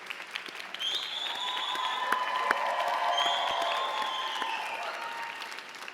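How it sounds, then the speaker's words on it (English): Applause at a 2017 dental school commencement ceremony, honoring the graduates' families and friends: a large crowd claps steadily at moderate distance, with a few scattered whoops and cheers rising through the middle. "please give a huge round of applause to your supporters"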